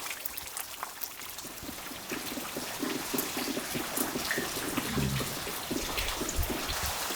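Steady rain pours down outside a shelter in a remote, rural part of Peru, a continuous close wash of falling water and drips with no voices.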